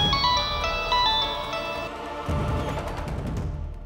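A phone ringtone plays a bright melodic chime pattern for about two seconds, then fades into a softer, noisier tail, heard alone without speech in a TV drama scene.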